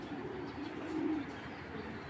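Maxi racing pigeons, a club-raced pair, give a soft low coo, faint and brief against quiet background hiss.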